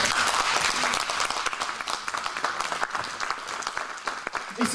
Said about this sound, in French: Là, normalement, vous auriez dû applaudir le Seigneur.